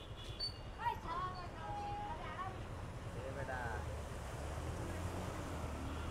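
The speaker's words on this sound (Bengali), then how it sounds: "কক্সবাজার সমুদ্র সৈকত চলে আসলাম" Rumbling waves and surf on Cox's Bazar sea beach with wind buffeting the microphone, and faint distant voices calling out.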